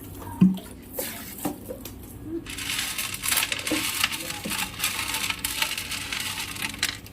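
Aquarium gravel stones clatter and grind against each other while being cleaned, with a sharp rattle near the start, then a denser rustling mixed with running water that carries on to the end.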